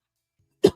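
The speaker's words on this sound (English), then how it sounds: "sounds like that cough is still hanging on." A single short, sharp cough from a man at close range, a loud burst with a faint tail, surrounded by silence.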